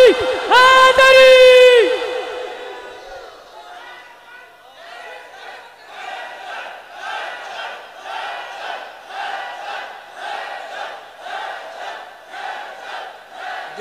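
A devotional gathering honouring Mawla Ali, where a man's amplified chant is followed by a large crowd roaring rhythmic slogans of "Haidari" in repeated loud surges.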